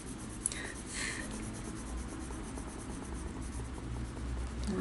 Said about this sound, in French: Ensuite, je reprends mon crayon le plus clair.